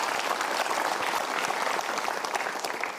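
An indoor audience at a motivational talk claps together, a dense, steady burst of applause at moderate distance lasting a few seconds.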